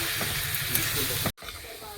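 Vegetables frying in a covered pan, a steady broadband hiss and sizzle that drops out briefly near the end before resuming, with faint talk in the background.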